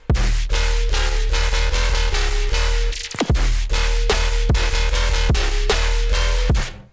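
A Vital synth patch layered with noise in a festival trap style, with dense, bright sustained stabs that pulse in a repeating rhythm, playing loud and full with a brief gap midway.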